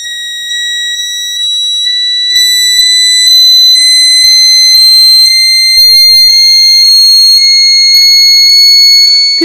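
An Arduino-driven passive buzzer emits a loud, steady piercing tone that slowly climbs in pitch over several seconds, accompanied by faint low ticking pulses.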